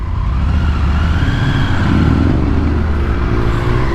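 A Triumph Tiger 900 Rally Pro motorcycle engine idles in the city with a steady, loud, close rumble and no pauses, under a constant broadband roar.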